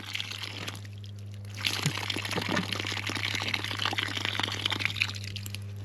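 Water from a repaired solar-powered well pump on a desert off-grid ranch flows and splashes steadily, a continuous wet rushing that swells after the first second or so, with a constant low hum beneath.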